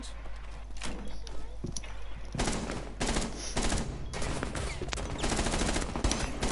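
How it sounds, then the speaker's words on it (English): Machine pistol fire stutters in loud, rapid bursts in an online shooter, several volleys separated by short pauses, with a player's voice talking over the shooting. "I've got my machine pistol."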